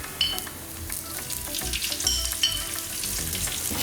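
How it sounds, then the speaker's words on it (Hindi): Minced meat (qeema) frying in oil with spices for qeema kachori, a steady close sizzle broken by a few scraping stirs and light clinks, with no talking. "मसाले को इसमें अच्छे से पकाएंगे हम।"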